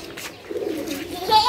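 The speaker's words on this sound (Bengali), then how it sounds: "কবুতরের সাথে।" Pigeons kept on a rooftop give soft low cooing in short bursts, with voices chattering nearby and a thin high tone near the end.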